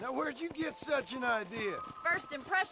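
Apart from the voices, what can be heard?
No distinct noise like a dog, phone or traffic.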